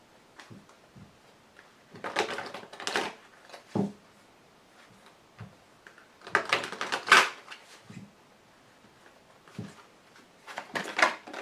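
Tarot cards being shuffled and laid down on a table, with brief papery riffles and soft slaps arriving in short bursts and separated by quiet gaps.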